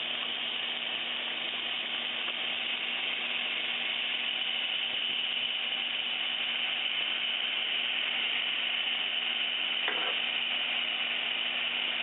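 Two tablespoons of butter melt in a hot pan while cooking venison marsala, producing a steady, even hiss of sizzling at moderate level, with a faint mechanical ticking underneath and no talk.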